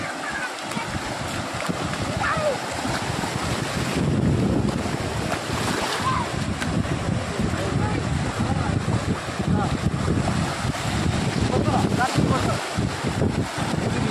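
Surf and gusting wind at Dindi beach in Andhra Pradesh, a continuous roar of breaking waves with wind buffeting the microphone, loud and steady throughout.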